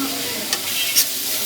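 Chicken mince fries in a pan under a constant bright sizzle, with two quick scraping stirs cutting through near the middle and the end.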